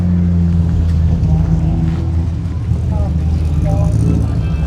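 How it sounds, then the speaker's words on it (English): A Ferrari race car at a hillclimb sprint event, its engine droning loudly and steadily nearby with shifting pitch as it runs past, a commentator's voice talking over it. "And here comes Clements in the Ferrari"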